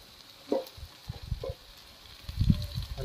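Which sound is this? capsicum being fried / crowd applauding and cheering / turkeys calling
capsicum being fried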